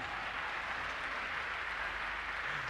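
A church congregation claps in a broad, even wash of many hands, sustained at moderate level without pause and with no voices on top.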